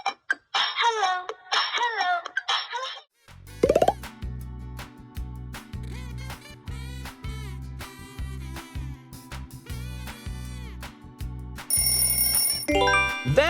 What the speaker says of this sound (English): That ringtone's from Hello Kitty.